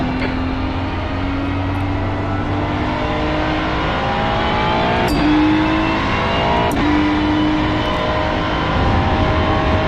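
Race car engine on track in the iRacing simulator, a continuous loud drone rising through the revs with a few abrupt gear-shift breaks and pitch drops, no voices over it.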